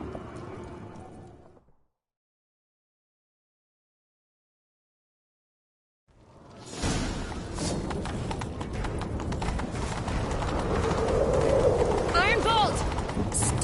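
Horse hooves clatter in a steady gallop in The Witcher 3, loud and continuous after a pause of silence, with faint bird calls and a brief whinny over the rhythmic clip-clop.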